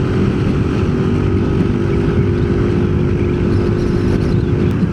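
A Yamaha NMAX scooter engine drones loud and close while riding, with steady rushing wind noise and a continuous low hum.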